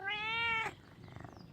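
A single close, clear cat meow, rising and then falling over about half a second, followed by quiet rustling.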